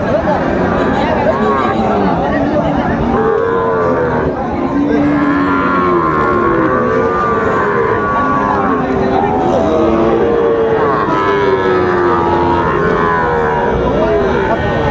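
Sahiwal bull calves low now and then at a crowded cattle market haat in Bogura, their calls rising over constant dense crowd chatter and nearby talking voices.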